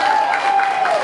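Brief burst of audience applause for a band member at a live performance, crowd clapping steadily under a presenter's sustained amplified voice.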